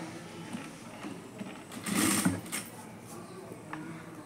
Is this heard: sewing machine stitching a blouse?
yes